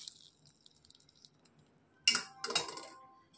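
Boiled mushrooms tipped all at once from a strainer into a bowl of chopped onion, giving two close, short clattering bursts after a near-quiet stretch of faint kitchen clinks.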